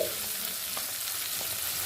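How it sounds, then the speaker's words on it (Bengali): Onion and capsicum fry in hot oil for a soya chilli dish, giving a steady close hiss with a couple of faint stirring scrapes and no voices. "ক্যাপসিকাম আর পেঁয়াজটা তেলের সাথে ভালো করে মিশিয়ে নেব"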